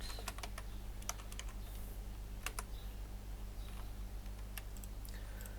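Rapid typing on a computer keyboard while writing CSS code, quick irregular clicks and taps in short bursts over a quiet room hum, fairly faint and with no talk.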